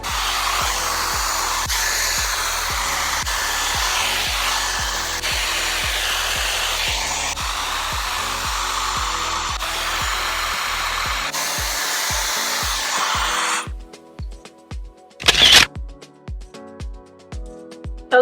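A hair dryer blows loudly and steadily at close range while drying curly hair, its continuous roar cutting off near the end and leaving brief handling noises.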